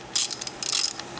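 Short bursts of close, loud ratchet clicking as the clutch pressure plate bolts on a Yamaha Banshee are tightened, two quick runs of fast pawl ticks.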